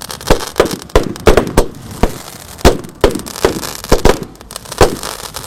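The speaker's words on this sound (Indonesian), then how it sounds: "Pesta kembang api." Roman candle fireworks firing on takbiran night, a large 200-shot cake: loud, sharp, close bursts repeating in an uneven rapid rhythm of about a dozen shots, with no talking.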